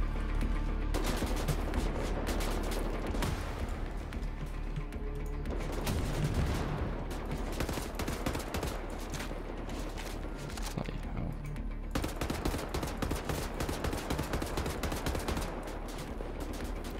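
Sustained automatic gunfire with booming impacts from the first-person shooter Wolfenstein: The New Order, dense and continuous rapid shots layered under faint speech throughout.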